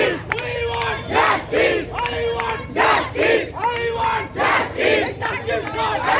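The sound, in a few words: protest crowd chanting slogans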